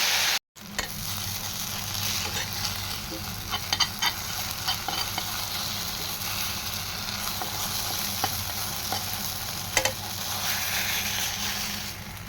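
Batter frying to a pancake-like consistency in a pan gives a steady, close sizzle that crackles and hisses for the whole stretch, with a few sharper pops and no talking.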